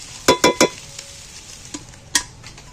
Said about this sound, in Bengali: মাছটা মশলার সাথে ভাজতে কতটা ঝরঝরে হয়ে গেছে দেখছো